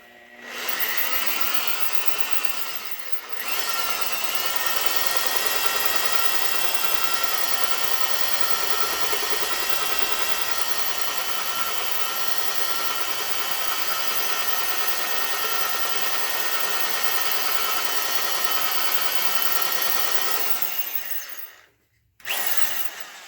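A power drill whines steadily through metal, drilling a pilot hole in a GM 2.4 Twin Cam engine block for about twenty seconds, close and continuous, with a brief stop near the start and another near the end.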